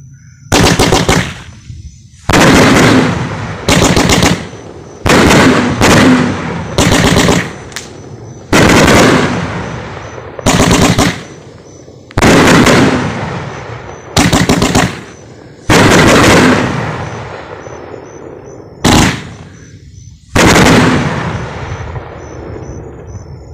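Pyro Planet Solid Gold 30-shot, 500-gram firework cake going off outdoors: loud, sharp volleys of rapid crackling bursts, about ten clusters with short gaps between them, no talking.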